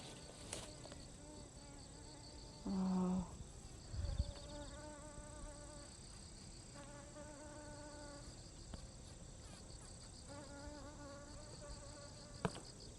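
Bees buzz steadily among flowering garlic chives in a vegetable garden, a constant close insect drone with brief louder passes near the microphone and no talking.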